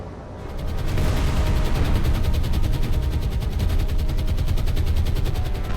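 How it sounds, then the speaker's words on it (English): Bombs from aircraft hitting a troop ship during a naval battle in the War on the Sea game, a loud, sustained roar of blasts and rapid gunfire-like crackle that swells after a brief quieter start. "Dropping bombs on one of the troop ships."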